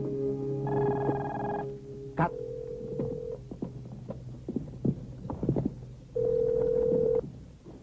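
A telephone rings in a Turkish-dubbed comedy scene with repeated electronic ring tones and bell-like buzzes, mixed with scattered clicks and thumps from the scene.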